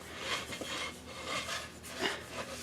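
Sandpaper rasps against a wooden bowl spinning on a lathe in a shop, a soft steady hiss swelling and easing in a few gentle strokes, fairly quiet and close.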